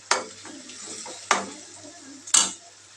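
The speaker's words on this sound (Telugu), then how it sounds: "రుచికి తగ్గ ఉప్పు కారం వేసుకోవాలి వేసుకుని ఒకసారి కలుపుకొని" Okra curry being stirred in a pan after salt and chili powder go in, with three distinct scraping strokes of a spoon against the pot over a soft sizzle, close and fairly loud.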